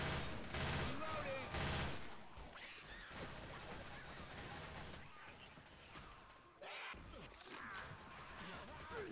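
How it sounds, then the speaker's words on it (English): Gunfire in Left 4 Dead 2 versus play in a swamp: dense overlapping shots and clattering impacts, loudest at the start then continuing more thinly, with voices talking over it. "Y'all keep shooting me."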